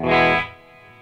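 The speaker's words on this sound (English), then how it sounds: "we've got the reverb time, which basically gives you how long the reverb sounds for" A guitar played through a Walrus Audio Descent reverb pedal in Hall mode gives a loud, distorted chord that cuts off quickly, leaving a quieter hall-like reverb tail that rings on.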